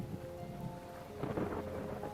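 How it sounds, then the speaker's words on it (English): A thunderstorm sound effect in a scary bedtime story has rolling thunder over steady pounding rain, swelling louder partway through, with no voices. "a loud crack of thunder woke me up"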